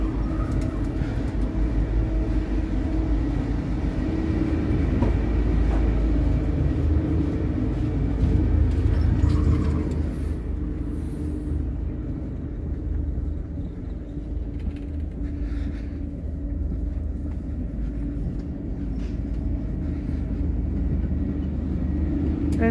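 Interior ride on a Metropolitan train hauled by a German intercity locomotive, running between Herfurt and Essen: a steady, loud low rumble of wheels and carriage with rattling mechanisms, continuous and alone throughout.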